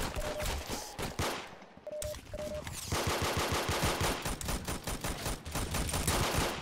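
Makarov pistol shots crack out in Roblox Arsenal as rapid, repeated bursts, loud and close, with a short lull and a few beeps before the firing resumes in a steady stream of shots.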